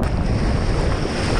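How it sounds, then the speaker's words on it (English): A big ocean wave breaks and roars at the beach, a dense, continuous wash of surf mixed with heavy wind buffeting the microphone. "Big wave."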